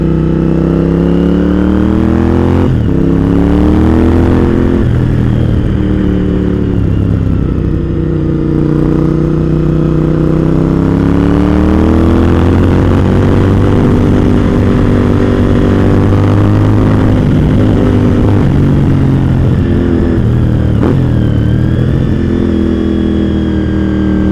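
A Suzuki motorcycle engine climbs a steep, tight Arkansas road in first gear, a loud steady drone whose pitch rises and falls with the throttle, heard close up and continuously with wind noise.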